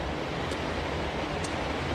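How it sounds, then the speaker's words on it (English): Steady broadband rush of river water on the Fraser River, continuous and even, with no distinct splashes, close and moderately loud throughout. "The sound of the water is kind of lulling the steelhead."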